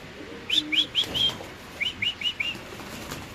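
Pigeons in a cage beat their wings in quick bursts, four sharp flaps, a short pause, then four more, close and fairly loud with faint chirps mixed in.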